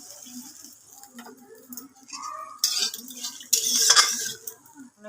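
Spice paste (mustard paste) stirred in a pan while cooking bhola fish: scattered metallic clinks and scrapes of a utensil against the pan, close and fairly quiet, with no talk.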